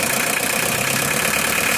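A Mitsubishi L300 engine idling, a steady, close, continuous rumble with a constant hiss and no pauses.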